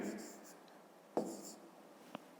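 Pen scratching out the answer to a long division on paper for a fifth-grade maths exercise, a few short strokes with a sharper tap near the end, close and quiet, with soft room noise between.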